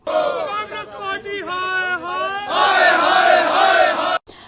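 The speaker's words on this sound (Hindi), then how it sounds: "आक्रोशित युवा कार्यकर्ता राहुल गांधी और यूथ कांग्रेस के खिलाफ नारेबाजी करते रहे" A crowd of angry protesters on a street shouts slogans against Rahul Gandhi and the Youth Congress, loud and close, with voices rising together into a massed roar before cutting off.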